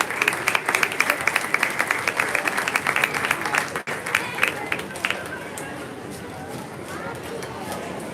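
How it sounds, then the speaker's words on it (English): Applause from a crowd at a junior fair swine show, a dense, steady clatter of many hands clapping that fades gradually toward the end. "Let's give him a round of applause."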